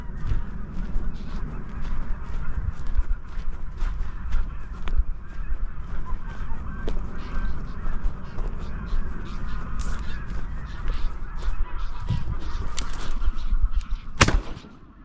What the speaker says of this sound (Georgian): ბატი ძალიან ბევრია